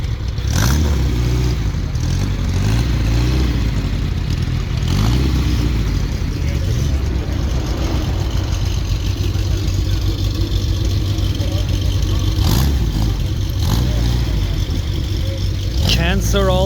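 Porsche 356 1.6 Super engine at a car gathering in Milan, running loud and close with a rough idle and several short revs, voices talking over it.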